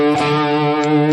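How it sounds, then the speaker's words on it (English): A heavily distorted electric guitar sustains a loud, saturated chord from a riff at full volume, ringing continuously and thickly throughout. "we bring the volume all the way up, so we have more distortion, and we play the same riff"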